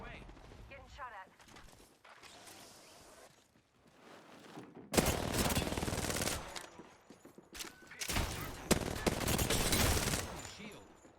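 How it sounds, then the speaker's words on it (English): Automatic gunfire in the battle royale shooter Apex Legends, loud bursts of rapid shots in two long volleys after a quieter stretch, mixed with game effects and players talking. "Getting shot at."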